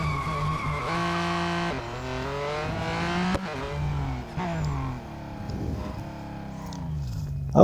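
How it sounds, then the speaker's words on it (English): Ford GT Le Mans race car in Real Racing 3 skidding around a corner, with a high engine whine and sustained tire squeal rising and falling through the turn. "Having difficulty making that corner without skidding."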